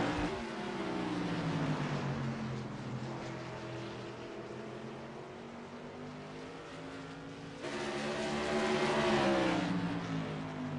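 Modified race cars lapping Thompson, engines droning and swelling as the pack passes down the front straightaway, fading slightly then rising loud again as the cars come by.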